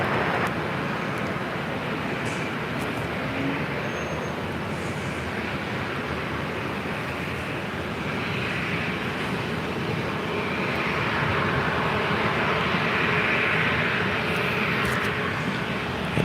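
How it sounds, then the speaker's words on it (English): Delta Airlines Boeing 737-800 jet at LAX, a steady broadband engine roar that holds loud and even throughout, swelling slightly toward the end, with no voices over it. "This is Delta Airlines Flight 2120 heading to Las Vegas in the 737-800."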